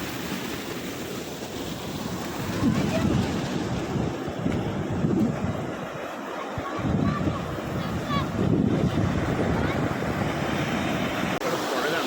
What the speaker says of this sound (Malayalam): സൂപ്പർ പുഴയാണ്.